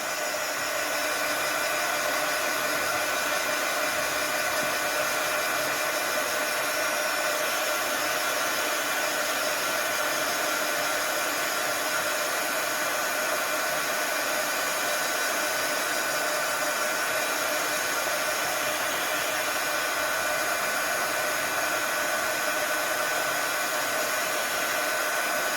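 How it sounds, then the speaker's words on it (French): Heat gun blowing hot air over leather to dry it, a steady, close, unbroken airflow roar that holds at even loudness throughout, with no talking. "au heat gun, il suffit de bien faire attention au séchage, hein, et pas le cuire non plus"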